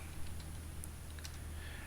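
Quick, light keyboard clicks from typing on a computer keyboard in Car Mechanic Simulator 2018, a few scattered taps over a steady low background hum.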